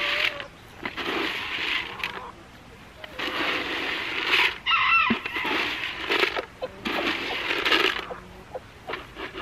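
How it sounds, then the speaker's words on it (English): A backyard flock of chickens, including a small gray Silkie, clucks steadily and close by while a rooster crows at intervals, with a bright metallic clink partway through and no talking. "That little gray chicken over there, that's our Silky"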